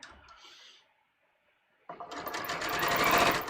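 Sewing machine stitching a row along a garment collar, starting abruptly after a quiet pause and running as a steady, loud whirring hum to the end, with a fainter earlier burst of machine sound before the gap.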